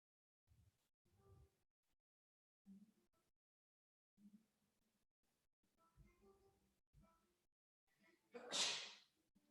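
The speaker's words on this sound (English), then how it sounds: "There's a good sneeze." A single sharp sneeze bursts out near the end, loud and close, following scattered quiet speech in an indoor setting.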